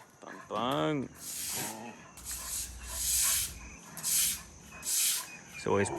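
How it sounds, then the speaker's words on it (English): A guard dog gives a few barks near the start and again at the end, with loud hissing, rushing bursts of noise in between. "He's a good guard dog, but it's a bit silly when he's just barking because another dog's barking."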